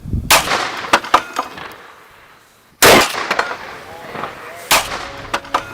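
Three heavy booming cannon blasts ring out a couple of seconds apart, each followed by a decaying rumble and scattered metallic clanks.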